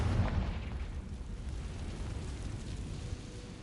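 A Confringo blasting spell goes off in Hogwarts Legacy, a booming explosion that trails into a sustained rumbling, crackling wash of debris-like noise.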